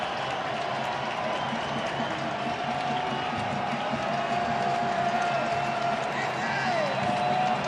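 At a baseball game between the Orioles and the Athletics, a stadium crowd applauds and cheers in a steady, dense roar that swells slightly toward the end, while a commentator's voice runs over it.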